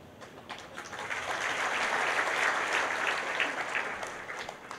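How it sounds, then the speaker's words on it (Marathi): An audience at an annual general meeting of a credit society claps together, the applause swelling from a moderate start to a full steady roar and holding for several seconds. "तुम्ही टाळ्या वाजवल्यात"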